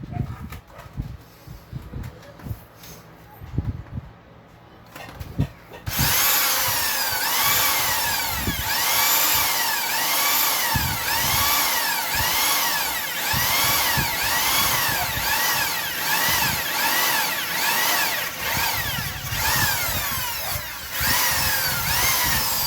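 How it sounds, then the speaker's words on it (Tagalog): Power drill fitted with a drill bit, first a few scattered knocks and handling clatter, then a loud, sustained whine of the drill running with a rhythmic wavering pitch, close by. "Ganda itong drill bit na nabili ko eh."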